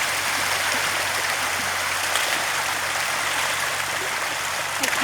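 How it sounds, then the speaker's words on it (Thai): Water churns and splashes steadily where fish feed on ground chicken feet, a loud continuous rushing wash at close range with no clear individual splashes and no voices. "นี่เนี่ยน้ำกระจาย"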